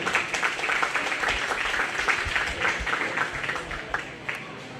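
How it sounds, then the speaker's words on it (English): Steady crowd applause at a county fair show ring, a dense patter of many hands clapping at moderate volume, continuing evenly for several seconds with no voices on top. "let's give those kids a round of applause as they exit the ring."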